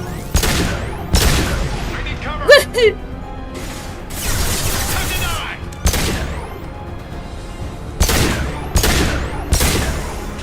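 Nuke explosions in the video game Mass Effect 2: a series of loud booming blasts at irregular intervals, with a brief voiced cry among them and rumbling between the hits.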